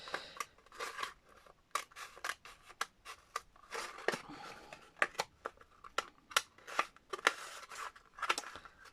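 Scissors cutting paper or card during a craft challenge, a series of crisp snipping clicks at an irregular quick rhythm, close and fairly quiet with no talking.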